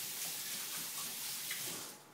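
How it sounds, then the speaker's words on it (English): Hands are rinsed under a running kitchen tap, a steady close splash of water lasting a couple of seconds before fading slightly at the end. "I'm just going to quickly wash my hands"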